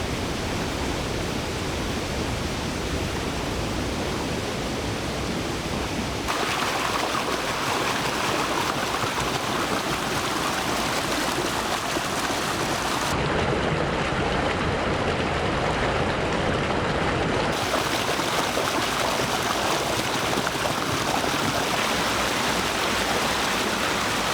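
A rain-swollen waterfall and stream rush steadily, a loud, continuous, broadband roar of flowing water that stays close and unbroken throughout, with no voices.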